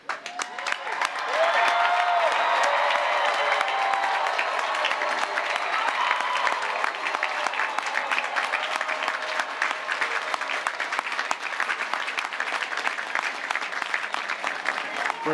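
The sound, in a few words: graduating class cheering and applauding at commencement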